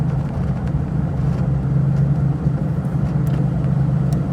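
A V8 car engine cruises at a steady low drone on a countryside drive into the Derbyshire Peak District, with a constant, fairly loud rumble and no talking.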